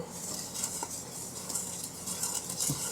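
A hand whisk stirs cocoa sponge cake batter in a bowl, making a steady, close scraping and swishing with a few light clinks against the bowl and no talk.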